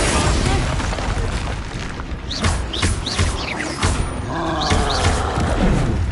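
Bombarda and Confringo spell explosions in Hogwarts Legacy combat, repeated loud booms and bursts over busy game music and effects, with a player's voice speaking over the fight.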